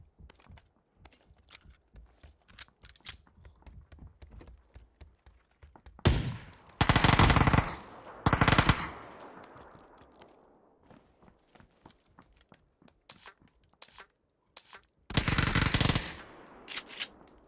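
Micro Uzi gunfire in the battle royale game PUBG: three loud rapid automatic bursts, the last two close together, with quieter game noise and sparse distant shots between them.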